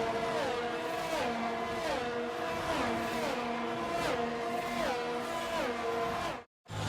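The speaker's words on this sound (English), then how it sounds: "The formation lap gets underway, and every driver will be looking to settle in for the race ahead" Race cars in the F1 22 video game on the formation lap at the Spanish circuit, engines droning steadily with repeated rising and falling pitch sweeps as gears change, loud and continuous, then a brief cut to silence near the end.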